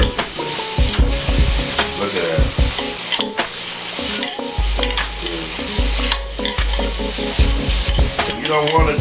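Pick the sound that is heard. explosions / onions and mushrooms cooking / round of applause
onions and mushrooms cooking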